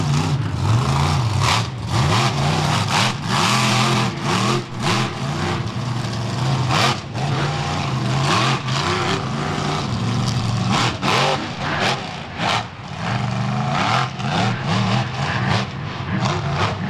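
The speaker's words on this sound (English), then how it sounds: "Nice combo for the Gunslinger monster truck." The Gunslinger monster truck roars and revs hard on beach sand during a Thunder on the Beach show in Wildwood, New Jersey, its loud engine surging in repeated bursts as it whips into a donut, with no talk over it.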